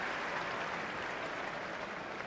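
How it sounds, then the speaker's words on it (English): A football stadium crowd at a 2007/08 Premier League match between Liverpool and Birmingham City applauds a substitution, a steady, distant wash of clapping across the stands. "Applause for Jermaine Pennant."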